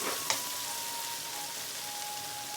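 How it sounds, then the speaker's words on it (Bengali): Spice paste fries in a pan with a constant close hiss and sizzle, a single brief clink near the start, and a faint thin whine running underneath, with no talk. "মশলাটা ভালো করে কষাই নিই।"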